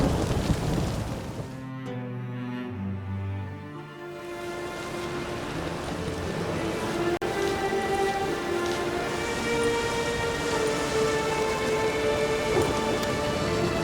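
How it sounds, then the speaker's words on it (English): A storm in the Witcher 3 game, with dense steady rain pattering over a low thunder rumble, and game music and tonal effects rising underneath after a brief quieter dip. "The storm, damn it."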